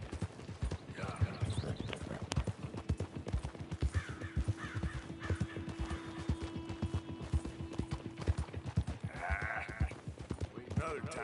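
Horse hooves clip-clop steadily while riding in Red Dead Redemption 2, a rapid rhythmic beat running throughout with game ambience, crow caws and voices talking over it.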